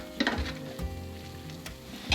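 A regular serving spoon scrapes the bottom of a stovetop pan after peppers are stuffed, giving a few soft, close scraping and clinking strokes over a quiet low sizzle.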